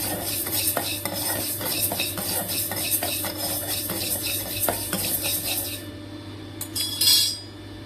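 Rice dry-roasting lightly in a pan for baby food, stirred with a utensil that clinks and scrapes in a steady rhythm, fading near the end.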